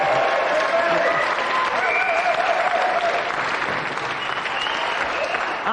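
The studio audience of the GamesMaster TV show claps in sustained, dense applause that continues evenly throughout.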